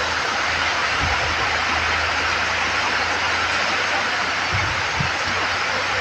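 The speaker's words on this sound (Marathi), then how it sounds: "वादळाचंच पाऊस, वारं पण आहे." Heavy storm rain and gusting wind, a dense, unbroken roar of downpour close by, with brief low rumbles underneath.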